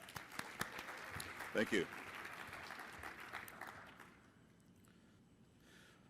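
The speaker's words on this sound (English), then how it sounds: "how about a little round of applause for our Arbor Day Foundation" A conference audience applauds for several seconds, then the clapping fades out while a voice briefly speaks.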